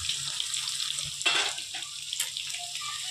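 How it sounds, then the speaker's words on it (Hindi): Chopped onions for Hyderabadi chicken curry cooking in a pan give a steady close sizzle and hiss, with a brief louder burst partway through and no voices. "हमारी जो प्याज है वो पक रही है।"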